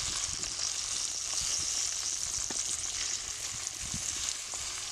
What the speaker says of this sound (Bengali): এই গরম তেলে লঙ্কাগুলো আমার নাড়তে হবে।